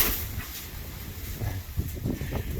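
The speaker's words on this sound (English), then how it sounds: "pardon the wind" Outdoor wind gusts buffet a microphone at a home Halloween display, a steady low rumble with brief stronger thumps, close and fairly loud, with no talking.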